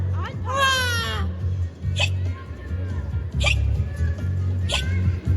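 A performer in a children's musical theatre show voices hiccups: a squeaky vocal glide followed by three sharp, separate hiccup bursts spaced about a second apart, close and loud over a low background hum.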